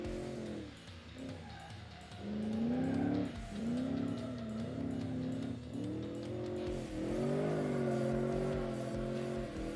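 A 2005 Ford Mustang GT replica drifts sideways in the Automation game, its engine droning steadily while the tires squeal in long, wavering howls, loud and continuous throughout.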